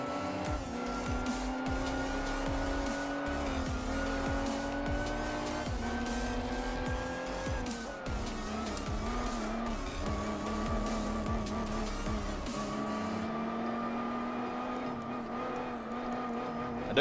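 A heavy 550-horsepower race car in Gran Turismo 4, its engine droning steadily as it climbs and shifts through gears, with tire squeal layered over it throughout the run.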